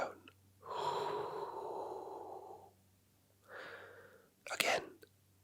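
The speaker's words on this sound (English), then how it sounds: "Let that breath out." A quiet, slow exhalation lasts about two seconds, followed by a shorter breath and then a brief sharper puff of air, all close and soft in a calm, hushed setting.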